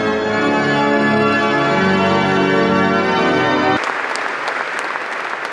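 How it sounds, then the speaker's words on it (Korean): A large 1745 pipe organ in the rear upper gallery of a church in Moravia, Czech Republic, holds loud, rich sustained chords. After almost four seconds it cuts off abruptly into a hissing, clapping-like noise. "이 소리를 내는 악기는 성당 뒤 2층에 설치되어 있는 파이프 오르간."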